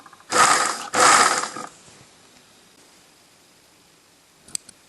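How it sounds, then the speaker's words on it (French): A sewing machine topstitches the fabric of a mini pouch kit in two short, close bursts of rapid mechanical stitching, followed by near silence and a faint click. "donc on va coudre ici en surpiqûre"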